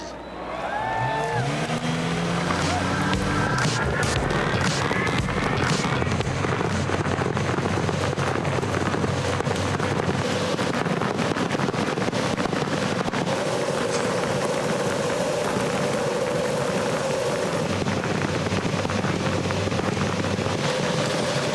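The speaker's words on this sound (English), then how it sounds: "Honda engines coming to life as 23 drivers now get set for 200 laps" Honda IndyCar race engines fire up and roar at Homestead ahead of a 300-mile season finale, a dense, continuous mechanical drone with wind buffeting, steady and loud throughout with no clear break.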